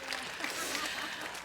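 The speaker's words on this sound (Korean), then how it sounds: "우리 다 같이 우리 박수로 큰 진짜 하나님께 영광 돌리는 시간이 되겠습니다." A church congregation breaks into brief, dense applause after a choir's hymn, a soft continuous wash of clapping heard from a distance.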